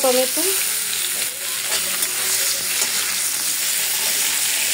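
Tomatoes frying in a pan for a small-fish chorchori, a loud, continuous close sizzle with a brief sharper burst at the start, then an even hiss throughout with no talk.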